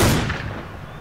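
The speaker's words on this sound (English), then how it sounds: "Oh, I gotta shoot at the ice first." A single sharp gunshot from a hunting rifle aimed at ice in Cabela's Dangerous Hunts 2011, a loud close crack followed by a short fading echo.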